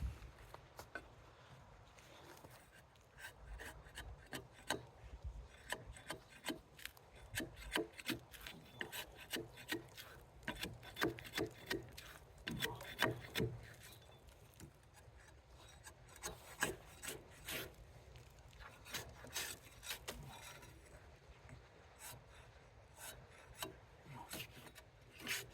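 A hand tool with its bar riding on the wood and the blade bevel up rasps and scrapes bark off a log, giving repeated rough strokes of varying loudness for the whole stretch, with no talking.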